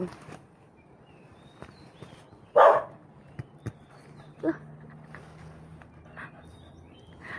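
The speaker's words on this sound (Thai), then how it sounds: "หมามันเห่านะคะ" A large dog barks outdoors in the morning, one loud bark followed by a few scattered fainter yips and sounds, with quiet background between them.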